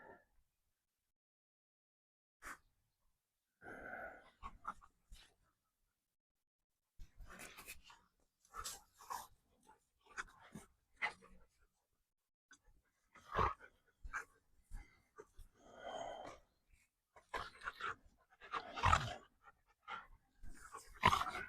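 A playful dog in a backyard pants and lets out short growls in scattered bursts between quiet gaps while tugging and dragging stuffed toys, close to the listener.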